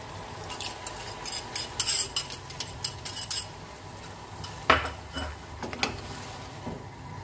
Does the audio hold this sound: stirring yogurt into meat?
yes